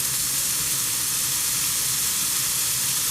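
Shrimp sizzling in a hot pan, a steady, loud, dense hiss that runs unbroken from start to finish with no voices over it.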